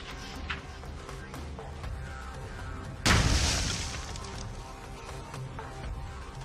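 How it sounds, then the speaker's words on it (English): A sharp, close burst as a tracer round fired from an AR-15 ignites propellant, making a small explosion that rings and decays over a couple of seconds against a steady outdoor background. "we got some pretty cool little explosions out of them"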